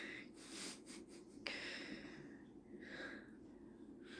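A woman breathes heavily in her sleep, with soft nasal snorts and wheezy inhales repeating faintly and close by in a quiet room.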